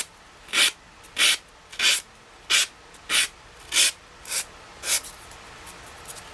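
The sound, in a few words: filing away designer paper edge on chipboard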